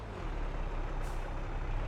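Farm tractor reversing into a storage pit in Farming Simulator 22, a steady low engine rumble with a brief hiss of air near the middle, continuous and fairly close, with no voices.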